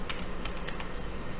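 Quick, light typing on a computer keyboard, a brisk irregular run of close, crisp key clicks with no voices.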